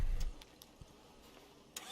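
A garbage truck engine in the zombie survival game State of Decay 2 gives a low, steady mechanical rumble, with a few brief ticks and clunks over the drone.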